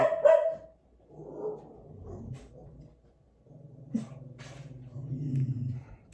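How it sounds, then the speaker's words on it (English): Several dogs bark in short bursts, a loud volley at the start and more barks and yips later, nearby and with nothing else competing. "It's dogs. I got dogs."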